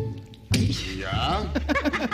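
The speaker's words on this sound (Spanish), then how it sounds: "Abre la puerta." A car door opening effect for a radio drama: one sharp, close thunk after a quiet moment, quickly followed by voices talking.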